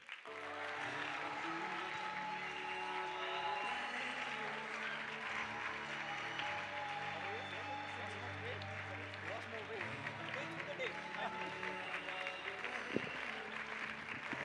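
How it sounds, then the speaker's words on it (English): A large audience at a talk on jobs and governance claps steadily in a sustained round of applause to welcome a speaker, fairly faint and even throughout, with voices mixed in. "let's give him a gracious, loud round of applause as we welcome our next speaker"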